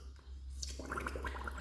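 Small air bubbles blown out underwater in a swimming pool during a breathing exercise, a soft gurgling burble that begins after a brief pause and runs as a steady string of little pops.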